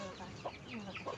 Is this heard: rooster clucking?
yes